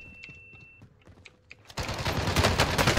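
Gunfire in the video game Call of Duty Warzone: a quiet stretch of small clicks and taps, then a sudden loud, rapid burst of close shots that continues to the end.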